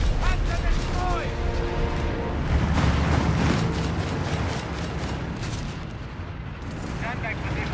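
A Panzer tank exploding in Company of Heroes 3 during the Afrika Korps campaign: a heavy, rolling boom with sustained rumble and crackle amid ongoing battle noise, with voices talking over it.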